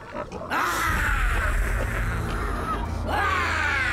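Pigs grunt and squeal loudly and continuously, close by, in a dense, rough chorus with a brief dip partway through.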